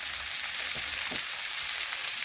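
Small cut potatoes fry with onions in a pan, giving a steady, close, continuous sizzle with faint stirring scrapes and no talk.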